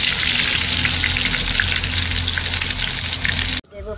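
Whole cumin seeds hit hot oil for a steady, close hissing sizzle with a broad crackling wash, cutting off abruptly near the end, as mustard-oil tempering starts for a Bengali chicken kosha.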